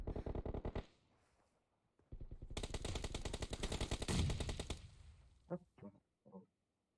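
Rapid automatic gunfire in PUBG Mobile comes in a short burst, a brief pause, then a long sustained volley, ending with a few separate sharp shots.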